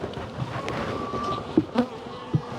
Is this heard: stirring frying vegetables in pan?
no